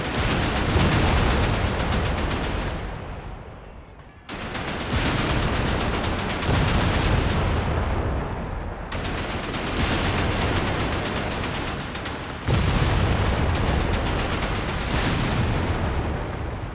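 In Company of Heroes 3, a Hellcat tank destroyer duels a Panzer IV in a dense, loud battle of repeated cannon blasts, explosions and gunfire, with brief near-silent drops between booming volleys.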